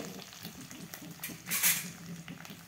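Cumin, pepper, mustard seeds, curry leaves and chana dal frying together in hot oil for Aldur-style uppitu, a close steady sizzle with a louder crackling burst midway and no voices.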